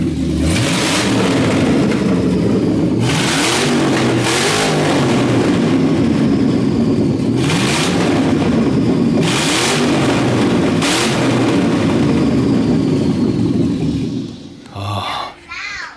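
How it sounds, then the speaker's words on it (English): A burnout car's 6-liter engine with open headers idles roughly and revs repeatedly, loud and close, several sharp blips climbing and falling before it settles, with a voice briefly audible near the end. "All right, y'all wanna hear a few revs?"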